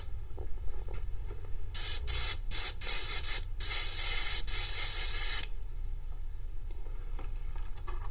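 Yellow body paint sprayed from an airbrush through a stencil during a UV body painting session: close, steady hissing bursts, several short puffs followed by one long continuous spray, then a quieter background.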